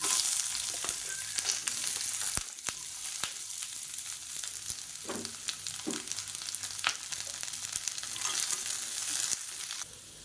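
Long-sliced onion fries in oil in a pan with a continuous, close sizzle. Occasional stirring clinks and scrapes break through, and no one speaks.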